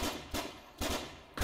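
Bursts of video game gunfire aimed at a crane, three or four short rapid volleys separated by brief pauses, fairly close and without talk.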